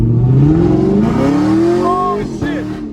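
A Camaro 2SS fitted with a cold air intake accelerates hard from inside the cabin, its V8 roar climbing in pitch through the revs before a shift, loud and close, with excited voices over it.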